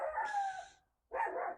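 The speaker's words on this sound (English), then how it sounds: "Featuring our neighbor's dog, Steve." A neighbor's dog barks outdoors twice, each bark a drawn-out, somewhat howling call, heard at moderate distance with a short gap of quiet between them.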